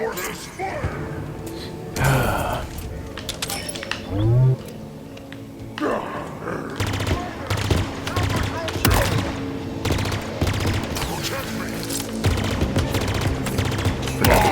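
Repeated bursts of gunfire in Halo Infinite crackle amid roaring game effects and a swelling musical score.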